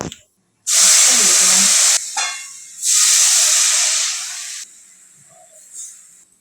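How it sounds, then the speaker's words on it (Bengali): Milk hits hot frying grated carrots in a pan for carrot halwa, giving two loud bursts of steamy hissing sizzle that each die back to a softer bubbling, close and without talking. "আমি গাজরটাকে ভালো করে ভেজে নিয়েছি, এবার ওর মধ্যে দুধ দিয়ে দেব।"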